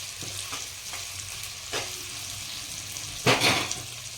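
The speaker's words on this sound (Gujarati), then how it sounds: "આપણે કાચું બટાકું લીધેલું એટલે તેલમાં થોડી વાર આપણે થવા દેવાનું." Raw potato pieces fry in hot oil with a steady, soft sizzle, broken by occasional stirring scrapes and a louder burst of crackling near the end.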